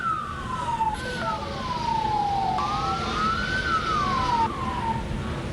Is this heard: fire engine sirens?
yes